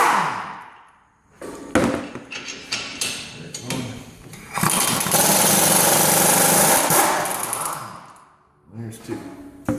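An air impact tool loosens front strut bolts on a Toyota RAV4, giving bursts of loud, close rattling hammering with a long sustained run in the middle, separated by shorter pauses.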